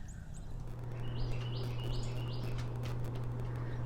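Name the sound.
birds chirping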